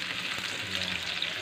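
Onions sauté in a pan for Filipino chicken with pineapple, giving a loud, steady, close sizzle and hiss throughout with no talking.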